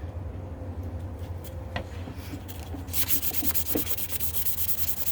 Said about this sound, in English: It's basically just a little bit of lacquer you have to sand off.